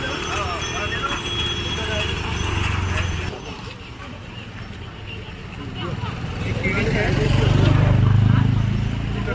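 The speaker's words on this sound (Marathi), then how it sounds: "आणि इथे बैलगाडी, सुंदर अशी बैलगाडी आहे" A bullock cart at the Shegaon temple grounds, its hooves clip-clopping steadily amid a busy crowd with voices murmuring in the background.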